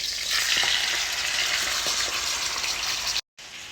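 Steak sears loudly in a hot pan, a dense steady sizzle close by with faint scrapes, cutting out abruptly near the end before resuming.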